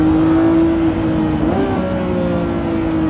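A loud Lamborghini Revuelto engine roars steadily close by, its pitch dipping briefly as it shifts gears, then climbing again as it accelerates.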